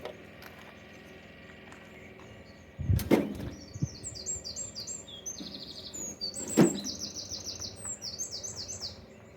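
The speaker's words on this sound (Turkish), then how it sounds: "kuşun sesine bakın" Small bird chirping in rapid, high twittering bursts that repeat several times, with a couple of louder thumps in between and a quiet outdoor background.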